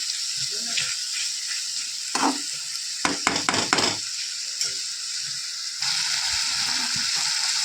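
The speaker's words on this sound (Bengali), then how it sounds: "আস্তে আস্তে এটাকে ভালো করে কষিয়ে নেব" Mushroom masala sautéed in oil over a lowered gas flame, a steady bright sizzle broken by a burst of stirring scrapes in the middle, then the frying hiss returns loud and close.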